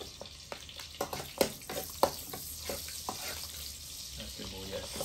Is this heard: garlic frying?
yes